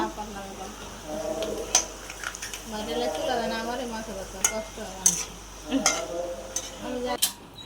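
Chips frying in a pan give a soft sizzle while a utensil stirs them with sharp clinks and scrapes at irregular moments. People talk over the cooking throughout.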